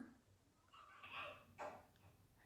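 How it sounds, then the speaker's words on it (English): A pet dog barks and yelps excitedly in another room, a few quick, moderately faint barks rising and falling over about two seconds with no one speaking. "Ignore my dog going crazy in the background"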